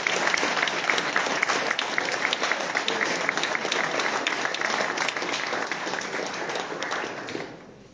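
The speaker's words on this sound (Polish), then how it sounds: "witamy wielkimi brawami pan Zbigniew Skola" An audience bursts into sustained, dense applause to welcome a speaker at a Polish political party gathering in Opole, the clapping holding steady at full strength before tapering off at the end.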